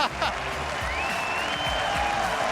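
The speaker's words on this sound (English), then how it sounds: "The crowd going absolutely nuts." A League of Legends All-Star 2016 esports crowd applauds and cheers loudly and continuously, making a dense wash of clapping with a whistle-like tone rising above it.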